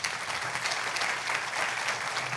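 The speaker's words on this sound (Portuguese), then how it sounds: "Primeiro, uma salva de palmas," A panel audience applauds steadily, a dense crowd clapping for a couple of seconds at moderate volume without pause.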